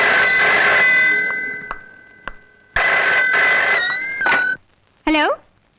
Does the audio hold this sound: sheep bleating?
no